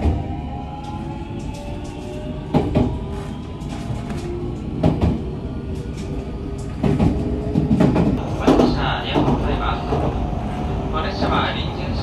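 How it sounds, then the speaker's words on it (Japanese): A temporary rapid train for Inakita, running through onto the Iida Line, departs Nakatsugawa station on the Chuo West Line, with rail rumble and intermittent clanks and clicks from the cars as it pulls away, while a voice talks over it. "7時17分中津川駅を稲北行き飯田線直通の臨時快速列車発車していきます"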